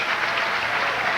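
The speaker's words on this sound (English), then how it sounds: "Stacy applauds that effort" Applause from a bowling crowd after a big shot at a tenpin tournament, a dense steady burst of clapping, loud and close, lasting only a moment.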